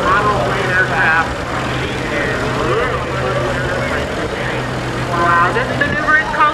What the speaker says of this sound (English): this maneuver is called a spiraling power, pointing that airplane straight up in the sky